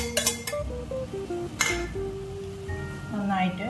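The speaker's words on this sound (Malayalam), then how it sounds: "അതിന് ശേഷം നമ്മുടെ തേങ്ങ ചതച്ചു വെച്ചത് ഇടുക." Crushed coconut goes into a pan of sprouted mung bean stir-fry, with metal clinks and scraping from a spoon against the pan, close and fairly clear, with a voice speaking over part of it.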